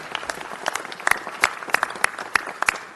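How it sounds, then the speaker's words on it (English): At a city council meeting, a modest group claps in a loose, uneven patter of individual hand claps with several sharper, louder claps standing out, fairly close and without talk over it. "let's give him a big round of applause"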